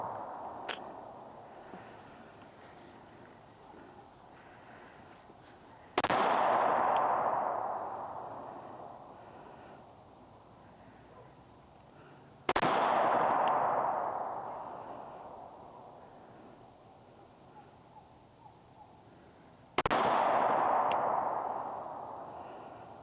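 Pistol shots fired at a target 15 yards away from a 3-inch barrel while zeroing a red dot sight: three sharp reports spaced several seconds apart, each trailing off in a long echoing decay, with no voices.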